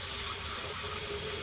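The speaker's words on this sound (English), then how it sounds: "I'm just going to rinse this bucket with some water." Tap water gushes steadily into a bucket being rinsed during cold process soap making, a continuous close splashing rush with no pauses.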